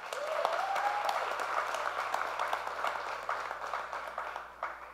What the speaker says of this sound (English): Can we give a round of applause to that?